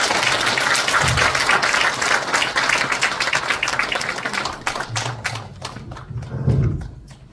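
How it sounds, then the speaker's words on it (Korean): Audience applause for a school principal's lecture at a peace-education forum in Pocheon, loud and sustained for several seconds before thinning into scattered claps near the end. "다시 한번 박수 부탁드리겠습니다"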